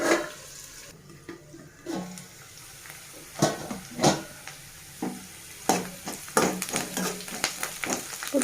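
Onions frying in a covered pan for Telangana-style dappadam, bursts of sizzling and stirring scrapes coming and going close by, with no talking.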